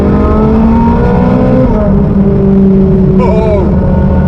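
A Shelby GT350 engine revs loudly and close by in Las Vegas, a continuous throaty roar that sweeps up and down in pitch with a sharp rise near the end.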